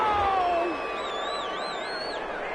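A home crowd in a Madden football video game cheers after a referee's call, a sustained roar of voices with whistles and whoops rising above it, while a commentator talks over the start.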